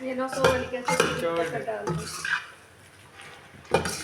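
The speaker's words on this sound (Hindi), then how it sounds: "चलिए केचप शामिल करने के बाद इसे अच्छा सा करेंगे मिक्स।" Chicken macaroni mixed with ketchup is stirred in a pan, with clattering scrapes and knocks of a metal spoon against the pan in short bursts and a brief lull in between.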